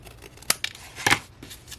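Scissors trimming a paper tag for a junk journal page, two crisp close snips with a small rustle of paper between them.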